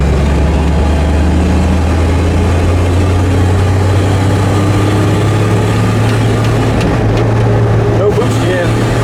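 A turbocharged 1956 car engine runs with a loud, steady low rumble close by, while people talk over it.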